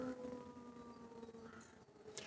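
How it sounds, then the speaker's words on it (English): An air raid siren sounding across a city during wartime, a faint, steady wailing tone in the distance with no talk over it. "what you're hearing behind me is an air raid siren"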